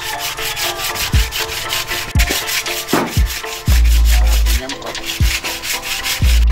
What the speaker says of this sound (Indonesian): kita lanjutkan dengan proses pengamplasan dengan menggunakan kertas amplas